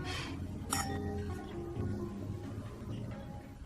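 Glasses clink together in a toast to a new friendship, one bright close chime early on that rings briefly and fades under a quiet background.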